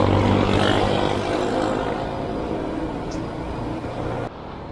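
Steady road traffic rumble from cars and buses passing nearby, a continuous broad wash of engine and tire noise that cuts off abruptly near the end.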